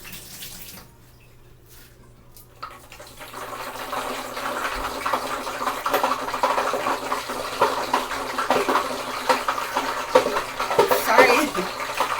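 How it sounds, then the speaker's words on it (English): Hot frying grease sizzles and crackles loudly after water is tossed in, following a quiet start, a steady spattering hiss that swells and keeps going. "I tossed a little bit of water in there just to kind of see if our grease was ready"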